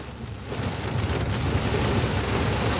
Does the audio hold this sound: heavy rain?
yes